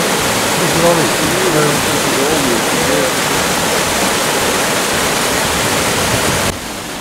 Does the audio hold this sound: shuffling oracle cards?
no